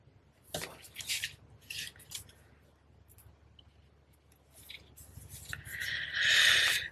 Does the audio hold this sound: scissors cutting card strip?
yes